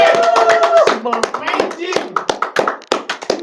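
Hand clapping in a podcast studio, a series of sharp close claps punctuating lively talk and laughter.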